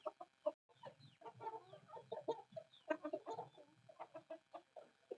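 An Aseel rooster, a young red bird on a farm, clucks in a busy run of short, close, throaty calls with brief pauses between bursts.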